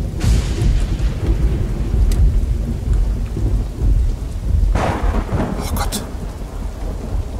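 Thunder rumbles and cracks through heavy rain during a storm in the video game Welcome to Hanwell, loud and close, with a sharp burst late on and a brief startled voice early.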